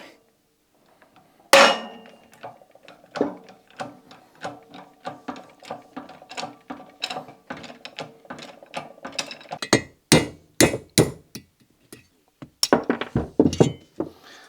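Valve guide being pressed out of a Citroën AZU cylinder head: a sharp initial crack followed by a long series of irregular close metallic clicks and knocks, growing louder and denser toward the end.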